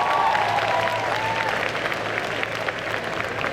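An audience at a cosplay group contest applauds steadily, a dense wash of clapping from a large crowd that holds at an even level throughout.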